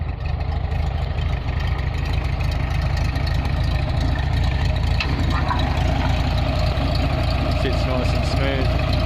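Volkswagen Beetle Superbug, a restored air-cooled VW with a fresh tune-up, idling steadily and close by with a low, even throbbing rumble that runs unbroken throughout while someone talks over it.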